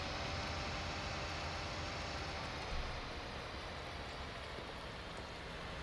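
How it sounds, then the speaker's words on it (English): Steady rain pours down in Farming Simulator 19, a dense, even hiss of falling drops over a field that holds at the same level throughout with no talking. "And we've now got rain on here"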